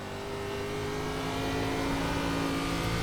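A NASCAR Xfinity Series race car engine in the iRacing sim at New Hampshire drones steadily and loudly throughout, a sustained mechanical hum with no talk.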